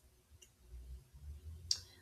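Two light, close computer mouse clicks, a faint one followed by a sharper one over a quiet room hum.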